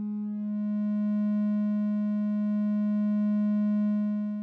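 A Moog Mother 32 synthesizer holds a single clipped, saturated waveform tone with asymmetric clipping, rich in steady overtones; it swells in gently, sustains evenly at moderate level without pitch change, then cuts off, with no voices.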